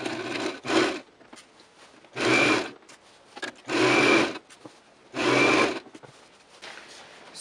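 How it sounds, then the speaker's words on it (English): A sewing machine stitches a side seam on a gown in four short, even bursts separated by quiet pauses and faint handling sounds. "I'm going to stitch right here and then take it all the way down to that end of the side seam"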